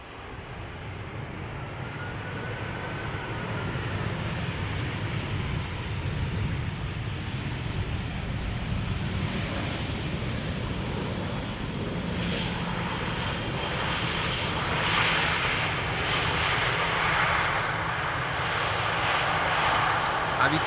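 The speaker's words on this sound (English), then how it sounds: "Lufthansa flight 988 arriving from Frankfurt," A Lufthansa Airbus A320 lands at Amsterdam Schiphol Airport, its jet engines roaring steadily for about twenty seconds with a broad rumble and whine that swells slightly toward the end.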